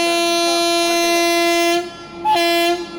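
A passenger train arriving at a station on the Shoranur–Nilambur line in Kerala sounds a long, loud, steady horn blast, then a brief pause and a second shorter toot.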